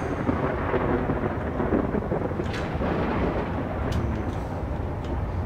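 Thunder rolls through a lightning storm in Space Engineers, a continuous deep rumble with rain-like hiss layered on top and a few sharp crackles, steady and loud for several seconds.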